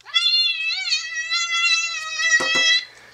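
An angry cat meow from a phone app plays as one long, loud, strained yowl, ending in a couple of sharp clicks.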